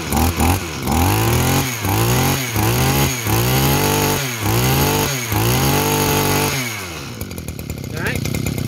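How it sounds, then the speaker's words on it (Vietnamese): A used Japanese brush cutter's small two-stroke engine revs loudly in repeated bursts, about seven throttle blips in a steady rhythm, then drops back to idle and cuts out near the end. "Nghe tiếng máy là biết máy ngon."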